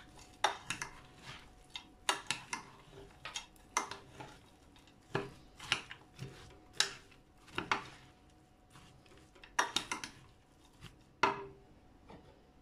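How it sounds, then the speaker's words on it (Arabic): Oat bar ingredients are mixed in a bowl, a spoon knocking and scraping against the sides in irregular clinks and taps, quiet and close with soft pauses between strokes. "نخلطوا جيدا جميع العناصر، نخلطوهم."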